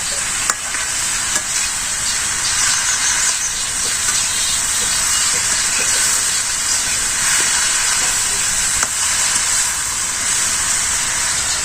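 Small ghu ghu fish fry in a pan with a loud, continuous, close sizzle and hiss that lasts throughout, with no voices.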